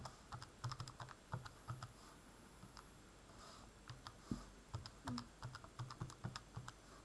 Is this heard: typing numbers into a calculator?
yes